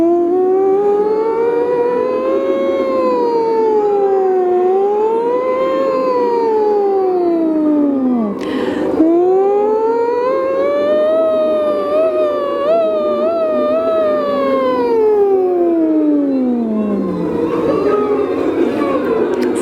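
A human voice imitates a siren in a vocal warm-up exercise, gliding up and down in long, smooth pitch sweeps repeated across the stretch, loud and close with a brief break midway.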